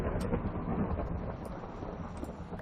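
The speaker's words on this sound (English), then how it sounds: "I don't know if you heard that, but that was a loud thunder." Thunder rolls through a Minecraft thunderstorm, a broad, loud rumble that stays steady across the whole stretch with no talking over it.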